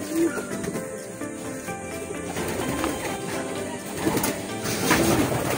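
Racing pigeons coo repeatedly in a breeding loft where hens and cocks are kept, soft throaty calls rising over a steady indoor background, with a faint voice in the room.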